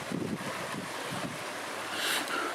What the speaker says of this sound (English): I hear water, which coincides with what I saw on the map